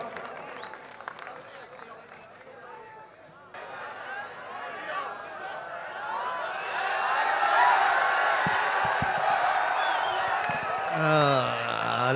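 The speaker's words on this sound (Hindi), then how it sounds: "हामिद भुसावली का जोरदार तालियां बजाकर इस्तकबाल करें" Audience at a mushaira poetry gathering in Saharanpur welcoming a poet with clapping and cheering, building from quieter murmurs to a loud sustained roar, with a voice speaking over it near the start and a tonal sweep near the end.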